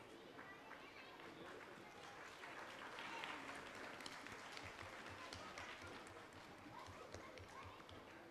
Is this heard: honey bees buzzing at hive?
no